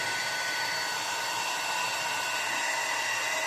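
A hair dryer blows steadily and close by, warming moustache wax, a continuous even whoosh holding at one level for the whole stretch with no voices.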